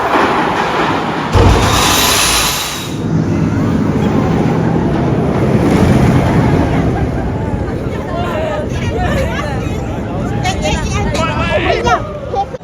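Riders on the Max Force launched roller coaster at Great America face a roaring rush of wind and rumble, while screams and excited voices rise over the noise.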